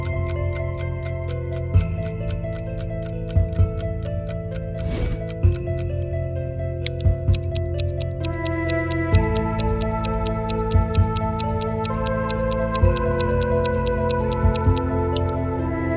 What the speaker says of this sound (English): Antique clocks are usually very loud.